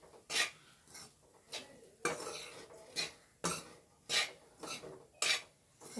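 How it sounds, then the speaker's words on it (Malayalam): Jackfruit seed and coconut mixture stirred in a pan, a spoon scraping and clinking against the metal in repeated rhythmic strokes, close and fairly quiet with no talk. "ഇങ്ങനെ ഇളക്കിക്കൊണ്ടിരിക്കണം കേട്ടോ."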